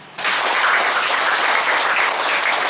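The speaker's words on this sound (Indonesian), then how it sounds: "Tepuk tangan." An audience at a church service breaks into applause after a testimony, a sudden dense burst of clapping that starts sharply and continues steadily at full loudness.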